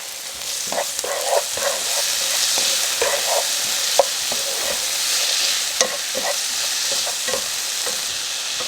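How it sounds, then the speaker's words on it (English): Chopped onion and minced garlic sautéing in a pan, a loud, even hiss of frying with regular clinks and scrapes of a utensil stirring, no one talking. "you want to go ahead and add 2 tablespoons of your minced garlic. And then let this cook for just a few seconds."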